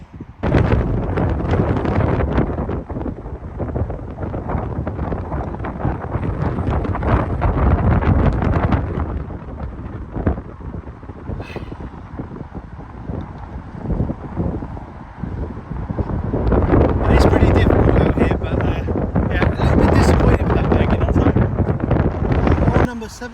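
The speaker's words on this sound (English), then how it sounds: "Pretty strong wind, so we're going to try and get a 9 iron." Strong wind buffets the microphone on a golf course beside a par 3 hole, a loud continuous roar that dips in the middle and surges back, with a person speaking over it.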